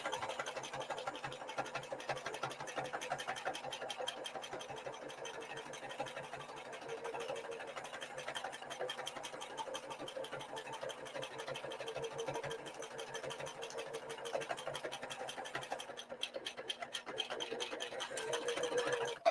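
Embroidery sewing machine stitching a 5x7 design, a steady, rapid mechanical needle rhythm running continuously at moderate volume close by.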